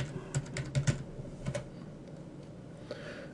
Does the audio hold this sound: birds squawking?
no